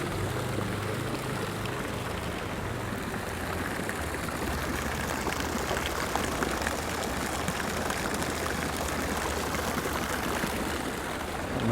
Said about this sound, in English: I do like the sound of running water. Fountains provide that perfect opportunity.